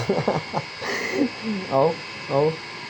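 Birds squabbling over water, calling and squawking close by in quick, overlapping bursts, several sharp harsh cries rising and falling as if quarrelling.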